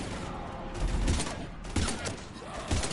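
Battle gunfire in the Mass Effect video game as soldiers fight off husks near the Normandy: a continuous rumbling barrage of shots with a few heavier bursts, loud and unbroken.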